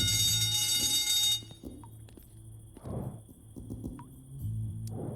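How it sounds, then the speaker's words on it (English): Loud ringing fire alarm in the point-and-click game 3 Minutes to Midnight, a dense buzzing tone that cuts off abruptly after about a second, leaving quieter clanks and footsteps. "Seriously, shouldn't you be worried about the alarm? There's obviously a fire somewhere."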